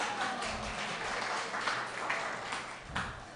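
An audience clapping in a small hall, a short burst of scattered, moderately quiet applause lasting a few seconds, somewhat distant with faint room noise.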